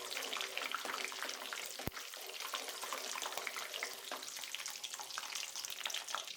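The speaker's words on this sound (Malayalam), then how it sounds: "അതിൽ എണ്ണ ഒഴിച്ച് എണ്ണ തിളയ്ക്കുമ്പോൾ അതിലേക്ക് നമുക്ക് അണ്ടിപ്പരിപ്പ് ഇട്ട് കൊടുക്കാം." Cashew nuts fry in hot oil for a mutton biryani, a dense, even crackling sizzle throughout with one sharp knock near the two-second mark.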